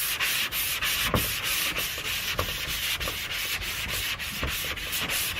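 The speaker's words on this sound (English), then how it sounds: "the technique is going to be sanding in zigzag" Sandpaper rubs across the body panels of a 1979 Honda Prelude in a zigzag, cross-pattern motion during paint prep, giving a close, steady scratchy rasp with regular strokes and soft thumps roughly every half second, with no talking.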